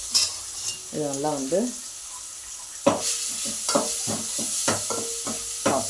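Cumin, mustard seeds and ground onion, garlic and pepper tempering in hot oil, crackling softly as a spoon scrapes and stirs in short strokes; a voice speaks briefly over it and a tone sounds near the start.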